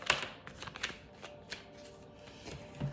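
Oracle cards being shuffled by hand, a run of crisp papery riffles and flicks with small pauses between bursts, close and fairly quiet with no talking.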